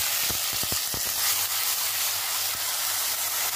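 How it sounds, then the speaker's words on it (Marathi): Onion paste frying in oil with curry leaves and roasted garlic for Andhra-style sambar, a steady broadband sizzle throughout, with a few sharp taps from stirring early on and no talk. "छान तेल सुटेपर्यंत आपल्याला ही कांद्याची पेस्ट भाजून घ्यायची आहे"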